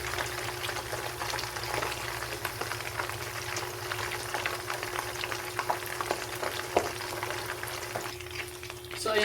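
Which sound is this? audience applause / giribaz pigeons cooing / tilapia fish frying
tilapia fish frying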